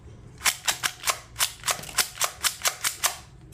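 A toy dart gun with a shell-ejection system that keeps jamming fires a fast string of about thirteen sharp, snappy clicks close by, spaced slightly unevenly, with no one talking.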